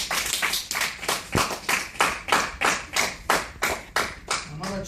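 A martial arts class claps in a steady rhythm for a student's strike during gold belt testing. The applause is loud and close, with a burst of talk underneath.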